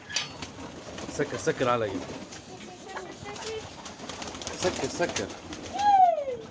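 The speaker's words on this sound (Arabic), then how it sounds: "طبعا يا اخوان زي ما انتم شايفين الحمام هذا هو" Farm-loft pigeons cooing in soft, repeated rolling calls, some near and some farther off, over a low background hum, with someone talking between and over the calls.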